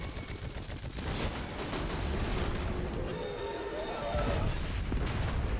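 Gunfire in a shooter game, likely The Division, rattles in rapid, dense bursts over a busy combat backdrop, loud and continuous for several seconds with bright crackling shots and occasional heavier blasts.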